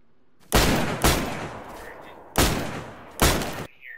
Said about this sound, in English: There's D-Flea be shooting someone.